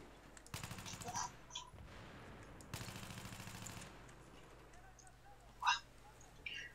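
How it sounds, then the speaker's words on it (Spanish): Gunfire in the video game Battlefield 3: two long, dense automatic bursts ring out close and loud, separated by a short lull, then give way to quieter battlefield ambience with a faint distant crack. "estoy viendo de dónde salen los disparos"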